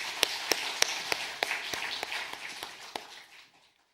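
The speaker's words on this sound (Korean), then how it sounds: "하나님께 영광의 박수 올리겠습니다." A church congregation at a Sunday worship service gives a short burst of applause, starting as roughly ten sharp, evenly spaced claps that fade out into silence.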